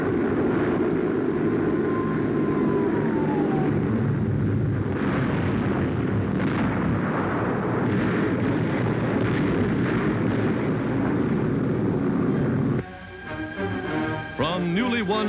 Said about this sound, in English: the Allies are dropping their bombs upon the heart of Nazi Europe